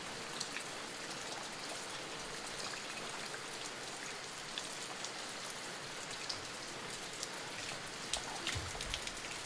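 Steady rain patters on surfaces outdoors, a soft continuous wash of drops with a few louder splats, fairly quiet and with no one speaking.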